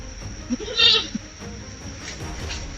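A single goat bleats loudly and briefly, followed by quieter rustling and faint background noise.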